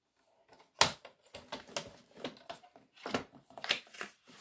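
Scissors snip through paper for a homemade gift box, a series of close, crisp cuts and rustles arriving in uneven bursts with brief pauses, fairly quiet and without talk.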